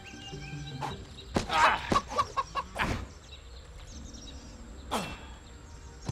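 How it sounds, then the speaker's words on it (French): Chicken clucking in Skysage, a Minecraft-style video game: a short run of about five quick, evenly spaced clucks in the middle, with a few sharp game clicks and impacts around them and no talk. "Ah, poulet!"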